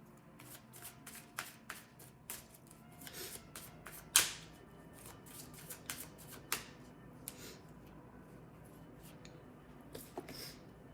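Tarot cards are shuffled by hand in a quiet room, a run of soft riffling bursts and flicks with one sharper slap partway through, close and fairly faint.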